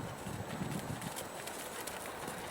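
A five-year-old horse works at a rising trot in a stretch, its hooves thudding in a steady two-beat rhythm at close to middle distance, moderately loud, with no voices.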